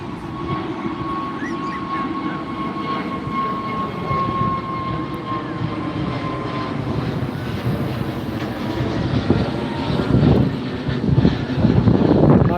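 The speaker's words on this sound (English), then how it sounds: "So there's another plane just there." A jet airliner roars on takeoff at Heathrow Airport, seen from Myrtle Avenue in London, a loud sustained rumble with a steady whine that swells as the plane climbs nearby.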